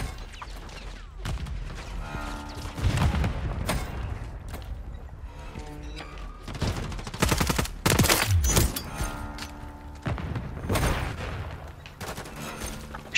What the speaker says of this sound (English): fucking sentry gun